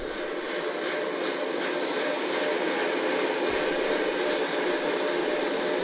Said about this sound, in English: The four core stage RS-25 engines gimbaling around, testing the ability to steer the rocket into space.